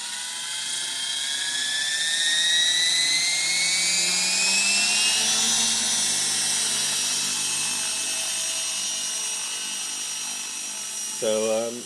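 RC helicopter flying as a camera platform, a steady high-pitched whine of rotors and motor with pitch rising and falling as it moves, loud and continuous, with a brief different sound at the very end.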